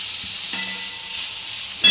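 Spice masala with Kashmiri chilli and salt sautéing for a potato and cauliflower curry: a brief, close, bright sizzling hiss with a couple of scraping stirs and a sharp burst at the end.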